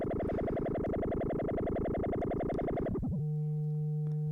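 An Endorphin.es Furthrrrr Generator synthesizer plays a steady pulsing tone with rapid rhythmic wobble, then, with wave folding removed, abruptly settles into a pure, smooth sine tone that holds steadily to the end.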